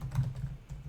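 Quick, soft keystrokes on a computer keyboard as a search is typed into Google, faint and close, with no voices.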